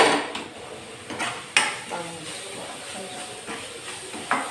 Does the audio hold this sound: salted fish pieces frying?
yes